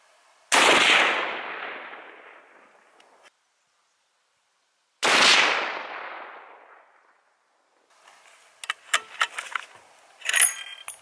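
Two loud, close .338 Lapua rifle shots fitted with a Vortex Diamondback scope, each a sharp blast with a long decaying boom, several seconds apart, followed by light metallic clicking and handling noises.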